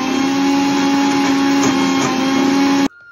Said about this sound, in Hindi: चलो अब पीसते हैं